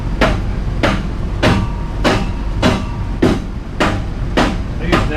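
A big hammer strikes a metal band clamp in a workshop, eight heavy ringing blows falling at a steady rhythm about every 0.6 seconds, close and loud over a low background hum.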